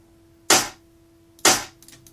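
Two dry, unprocessed clap samples from a studio production session, each a sharp bright snap with a quick decay, spaced about a second apart and heard alone with a faint low hum underneath.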